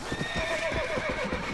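A horse whinnies loudly over repeated thudding hoofbeats in the Western video game Red Dead Redemption: Undead Nightmare, the long neigh sliding down in pitch as the hooves keep pounding steadily close by.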